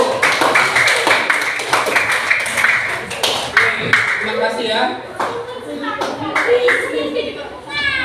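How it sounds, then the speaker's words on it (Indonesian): Students in a classroom clap for a student group after its presentation, a burst of scattered hand claps and taps mixed with children's voices, while a teacher speaks briefly over it. "Tepuk tangan buat kelompok 1."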